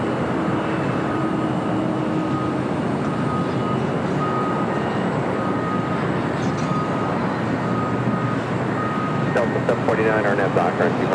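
Delta jet airliner taking off from runway 25 right at Los Angeles International Airport, a steady broad engine roar holding at constant loudness from start to finish, with brief higher-pitched whine and clatter near the end.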